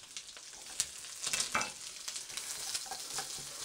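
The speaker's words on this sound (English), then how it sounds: "in go my onions." Onions stir-fried in a hot wok for a chicken and mushroom Chinese takeaway dish: steady sizzling with scraping and clattering stirring strokes, close and fairly loud, no voices.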